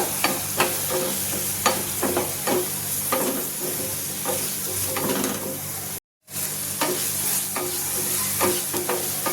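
A spoon stirs masala for masala pav in a pan of oil with a spoonful of water, giving repeated scraping strokes over a constant frying sizzle, with one brief silent gap partway through.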